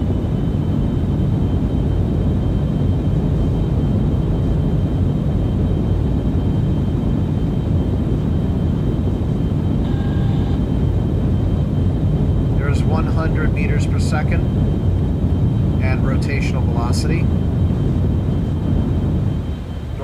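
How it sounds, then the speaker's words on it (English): Spacecraft engine thrust in the Orbiter space simulator: a steady, loud, dense roar that holds unbroken for twenty seconds, with faint beeping tones rising briefly over it near the end. "Applying thrust in 3, 2, 1, now."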